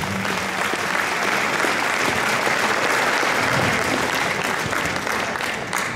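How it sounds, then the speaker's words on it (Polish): Steady, dense applause from an audience at a municipal 40th-anniversary jubilee ceremony for the Pakosław commune, held at an even level throughout without pause. "Wielkie, wielkie brawa i prosimy o fanfary."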